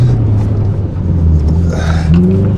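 A Subaru Impreza WRX STI drives on an ice track, its engine giving a steady, close, loud rumbling drone that rises in pitch near the end as it revs, with no talking.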